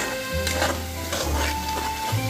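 Spices are sautéed and stirred in a pan for a Bengali coriander bhetki fish curry, giving a steady low frying hiss with scraping and stirring strokes that run continuously throughout.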